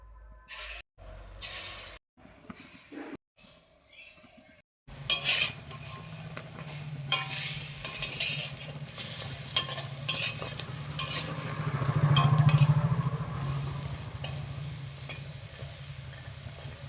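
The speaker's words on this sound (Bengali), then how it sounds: "তেল গরম হয়ে গেছে, এবার বড়াগুলো প্রথমে বানিয়ে নেব।" Lentil fritters (dal bora) seasoned with salt and turmeric frying in hot oil, preceded by a few quiet knocks, then a steady crackling sizzle with spoon scrapes and clinks, swelling louder near the end.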